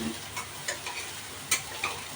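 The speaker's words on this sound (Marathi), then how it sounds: "त्यावर लगेच मी किसलेले गाजर घातले" Grated carrots fry in ghee in a pan, a soft steady sizzle broken by a few light stirring scrapes near the end, close and alone without any voices.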